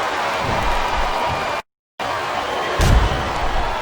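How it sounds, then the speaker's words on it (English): Arena crowd noise in the WWE SmackDown vs Raw 2007 video game: a steady, broad roar that cuts out briefly and then returns, with a thumping swell near the end. "Sounds like this crowd's got something on their minds"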